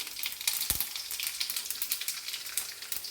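Mustard seeds and cumin frying in hot oil in an iron pan for carrot fry, a close, continuous sizzle with crackling pops scattered throughout and no voices.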